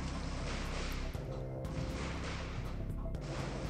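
Artillery cannons fire in the strategy video game REDCON, with repeated booming shots and crashes over a dense, continuous wash of battle noise and music.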